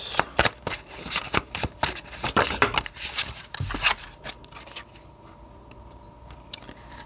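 Tarot cards are handled and shuffled in quick riffling, flicking bursts that come close and crisp for about four seconds, then fade to a few quieter taps and card slides.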